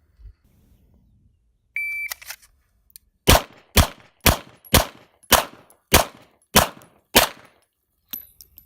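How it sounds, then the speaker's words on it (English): A short electronic beep opens a pistol drill on a string of targets, then about eight sharp, loud gunshots crack out in quick pairs and singles, each with a brief decaying echo. "You need to engage and put 2 shots in each one in that simple string of 8 shots."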